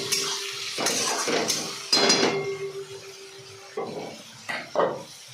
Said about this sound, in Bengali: একটু পরে এবার ঢাকনাটা তুলে আবার একটু নেড়ে নিতে হবে